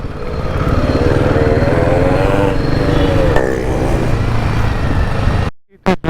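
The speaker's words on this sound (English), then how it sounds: "Once it is at 90 degrees Celsius, the fan is getting switched on." Radiator fan switched on at 90 °C on a Royal Enfield Himalayan 450 motorcycle with a coolant leak, giving a loud, close, steady whirring drone that cuts off abruptly near the end.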